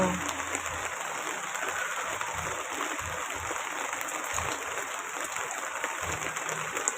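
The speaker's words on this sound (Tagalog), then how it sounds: "Umuulan na naman." Rain falling outside a house window, a soft, steady hiss of drops on surfaces with faint low thumps, quiet and continuous throughout.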